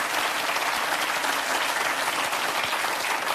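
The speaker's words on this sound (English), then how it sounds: "give the guys a round of applause" A studio audience applauding, dense and steady clapping that fills the whole stretch without a break.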